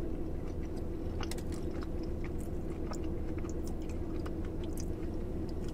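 Close, steady chewing of a hard, crunchy Congo bar with a soft middle and a ginger-flavored bottom, heard as a dense run of bites and crunches over the whole stretch, with no talk.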